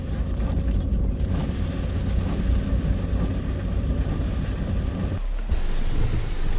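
Heavy rain pours down in a steady, loud roar of broadband hiss with a deep rumbling undertone, continuous throughout.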